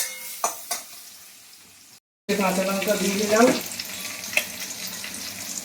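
Onion and a fish head fry in hot oil with a close, bubbling sizzle; a few clatters come first, then a brief silent gap before a louder frying crackle returns under a woman's speech.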